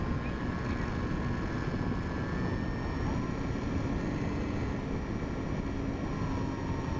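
A small Ultra Stick model airplane's electric motor on 3S LiPo power whines steadily at a distance, a thin high-pitched drone over a broad wash of outdoor noise, with no talking.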